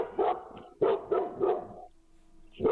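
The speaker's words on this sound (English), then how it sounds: "Barking loud as well, man." A dog barks five times in close succession, loud and near, with a short pause before the final bark.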